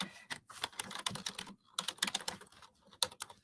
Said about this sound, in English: Maybe I'll type that in too.